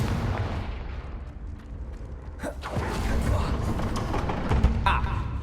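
The Confringo spell in Hogwarts Legacy bursts with a sharp, rumbling explosion, followed by a second, smaller blast, over a dense bed of game ambience and muffled voices.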